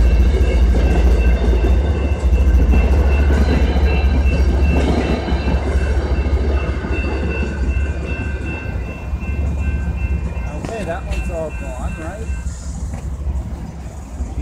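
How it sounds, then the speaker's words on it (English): An MBTA commuter train rumbles steadily past a crossing on Bishop Street, Framingham, Massachusetts, with a loud low roar and rattling wheels, gradually easing off toward the end. "Oh, I hear the train."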